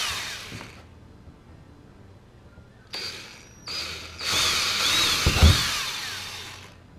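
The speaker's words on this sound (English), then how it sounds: "I'm going to just drill out the holes, the center holes here first with a small bit," A small 1/8-inch bit drilling center holes through a template for a pilot hatch install, the drill whirring in three bursts that grow longer and louder, the last biting steadily into the material, close and without talk.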